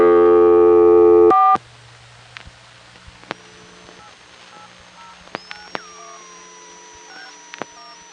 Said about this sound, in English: The touch tones you heard in the background were other customers.